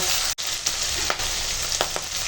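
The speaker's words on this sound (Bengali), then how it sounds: "মাছের মাথাটা ভাজা তেলেতেই পেঁয়াজটা একটু ভেজে নেব" Onion fries in the oil left from frying a rohu fish head, giving a steady, close sizzle and crackle throughout, broken by a few brief scraping stirs.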